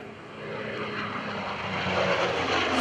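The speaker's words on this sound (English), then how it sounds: "Vought initially built the F4U that you see flying here today" A Vought F4U Corsair, the F4U-5NL piston-engined propeller fighter, roars past during an airshow display, its steady engine drone building slightly louder as it nears, with no voices over it.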